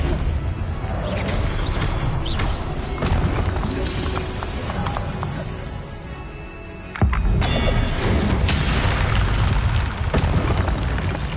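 Explosive Confringo spell blasts go off in Hogwarts Legacy, with repeated booming hits and whooshes amid constant battle noise, including one sharp, loud burst partway through.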